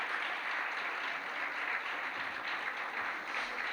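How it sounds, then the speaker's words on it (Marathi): Steady applause from an audience at a gurukul Maha Aarti gathering rewards students' singing, a continuous even patter of many hands, moderately distant and fairly soft, with no voices over it. "जरा जोरदार टाळ्या वाजवूयात सर्वांसाठी"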